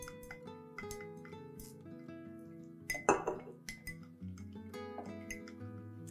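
A hot glass container holding melting beeswax and jojoba oil clinks against a pot in a hot water bath, a few sharp glassy chinks and one louder rattling knock, close and faint over a soft musical background.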